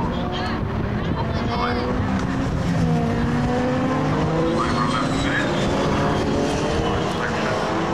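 Race cars in a 750 Motor Club Sports Specials and SRGT race at Brands Hatch sweeping through a right-hand corner, loud overlapping engine roars with rising and falling pitch as they pass, under continuous commentary.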